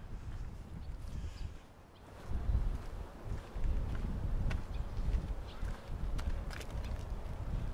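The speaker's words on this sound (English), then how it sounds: "It's a bit windy now." Wind gusts buffet the microphone outdoors on Långholmen island in Stockholm, low rumbling blasts rising and falling, with faint footsteps and movement in the background.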